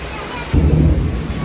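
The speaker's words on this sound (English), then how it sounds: "There was 5 seconds between the lightning and thunder." A loud thunderstorm with a sudden low rumble of thunder over steady rain noise, close and heavy, with no talk.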